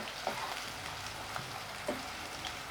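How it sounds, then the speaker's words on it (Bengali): Koi fish frying in oil with garlic cloves and slit green chillies, a steady close hiss of sizzling with a few faint pops and clinks. "আমি এটা ভাজতে থাকছি।"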